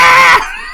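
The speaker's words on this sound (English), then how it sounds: "The goblin starts screaming." A goblin screaming sound effect during a tabletop role-playing game, a short, loud, high shriek that cuts off abruptly after a fraction of a second.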